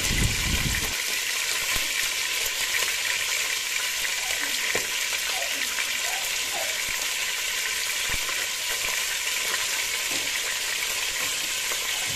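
Chicken frying in a pan with whole garam masala, a steady, even sizzle with faint bubbling and occasional stirring clicks, continuous and close.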